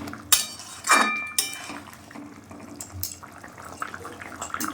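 Bengali rui fish curry with potatoes and homemade bori stirred in a pan: a metal spoon clangs and scrapes against the pan in a few sharp knocks, then softer bubbling and scraping continue close by.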